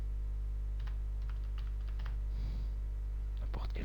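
Keys tapped on a computer keyboard while text is entered into a SolidWorks drawing title block; scattered light clicks come in short bursts over a steady low electrical hum, with no voices.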